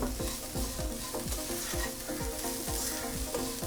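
Chicken coated in masala fries in a pan, a loud continuous sizzle with a regular rhythm of spatula scrapes sweeping through the pieces about twice a second.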